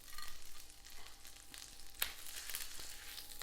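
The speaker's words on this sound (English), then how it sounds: "Nice sizzling sound." Steak sizzles and spits in a pan with butter and oil, a faint, steady frying hiss with a few small pops and clicks, and no voices.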